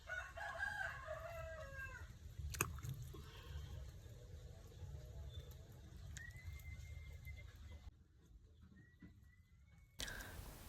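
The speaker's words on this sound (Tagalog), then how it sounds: "Kabanha po daning mga manok, oy." Chickens cluck and a rooster calls amid outdoor ambience, with a sharp knock partway through.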